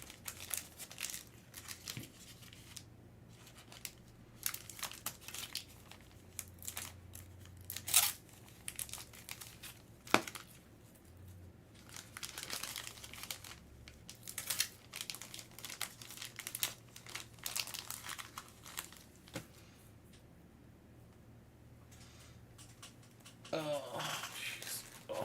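Plastic bag crinkling and rustling as it is handled during a live card break, with irregular bursts of crackle that come and go over low background noise, close and moderately loud.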